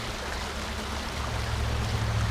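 A small Ohio creek flowing steadily, with a close, continuous watery rush and trickle that holds even and swells slightly toward the end, with no voices.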